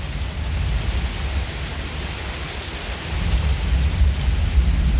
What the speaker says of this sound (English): Lots of thunder.